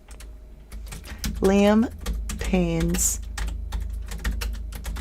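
Rapid clicking of keys on a computer keyboard, close and fairly quiet, continues throughout as a person talks over it in two short spoken phrases.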